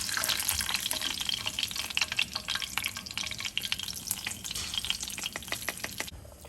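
Garlic frying in hot oil for a chicken rice soup, a dense continuous sizzle with scattered crackles and pops, close and fairly loud, no voices.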